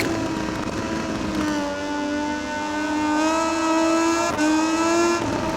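Moto2 racing bike engine in MotoGP20 runs continuously at high revs, its pitch rising and falling through gear changes with a brief dip before a renewed climb, loud and close throughout with no talk.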